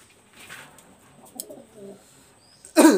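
Pakistani high flyer teddy pigeons coo in soft, low, intermittent calls, followed at the end by a sudden loud burst of noise.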